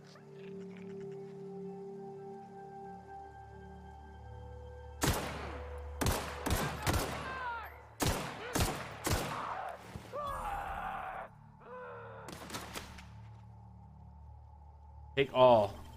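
The Outer Worlds on PC: sharp bursts of gunfire in quick succession stand out over low game ambience and hum, followed by scattered impacts and a final loud shot.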